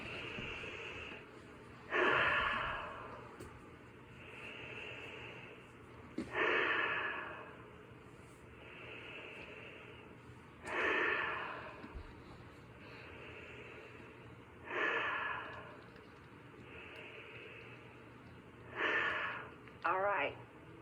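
Slow, rhythmic breathing during an energy-healing exercise done with the fingers placed in position: five long breaths come at steady intervals of about four seconds, each a soft airy swell, close and fairly quiet, with no talking.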